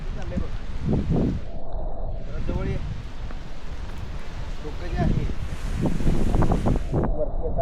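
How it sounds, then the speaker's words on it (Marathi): Gusty wind roars steadily across the microphone in the Malshej Ghat area of the Sahyadri hills, rising and falling, with indistinct voices mixed in underneath. "वाऱ्याचा आवाज जो आहे तो ही या ठिकाणी येतोय"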